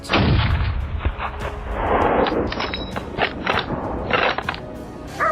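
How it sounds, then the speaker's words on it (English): Gunfire in thick African bush during a warthog hunt: a loud, close shot followed by a rough run of further cracks and clattering impacts. "Just as it emerged from the thick bushes, a decisive shot rang out, cutting off its escape route."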